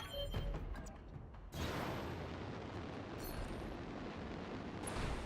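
A building collapses under fire in the mech combat game Battletech: a deep, rumbling explosion bursts in loudly and keeps roaring as a sustained heavy blast, with an earlier muffled boom and crackling debris before it.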